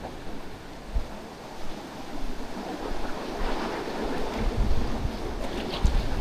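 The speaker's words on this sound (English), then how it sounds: "There's not a lot of waves coming in" Gentle small waves wash against a rocky shore near pink sea caves, a steady soft surf hiss mixed with wind rumble on the microphone, with no talk.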